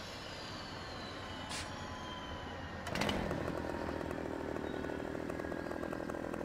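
Husqvarna chainsaw in Farming Simulator 15 starting up partway through, a sharp engine snarl rising over steady background rumble and then running on continuously, close and loud.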